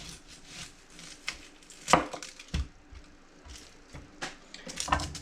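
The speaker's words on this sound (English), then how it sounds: "Typically, you cut the butt of the onion off." A chef's knife cuts the end off an onion on a board, giving a few sharp, close knocks and taps spaced irregularly, with one stronger chop standing out amid quiet kitchen handling.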